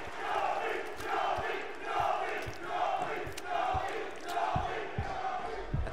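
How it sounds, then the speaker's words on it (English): A fighting game tournament crowd at an MKX top 8 chants for the player Yomi in a steady rhythmic chant that swells and falls about once a second, loud and filling the hall. "That crowd chant for Yomi"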